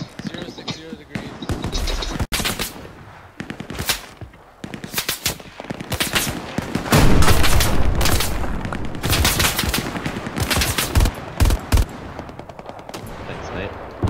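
Rapid gunfire from teammates in the video game Hell Let Loose, sharp close bursts of automatic and single shots cracking in uneven clusters, loud, with a voice talking over parts of it.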